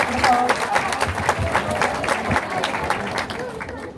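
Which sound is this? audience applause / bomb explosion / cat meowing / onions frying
audience applause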